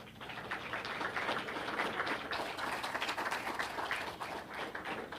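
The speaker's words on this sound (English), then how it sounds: "let's give them all a round of applause" An audience applauds faculty members and residents at a gathering, a steady dense wash of many hands clapping that continues at an even level throughout, with no talk over it.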